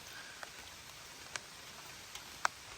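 Rain falls at a van campsite, heard as a faint, steady hiss. A few sharper drips land at scattered moments, with no voices.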